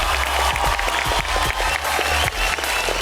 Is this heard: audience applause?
yes